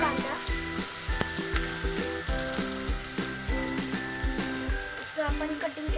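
Chopped onion going into hot oil that has browned, with a steady crackling sizzle and repeated clicking scrapes from stirring, fairly close, no talk over it.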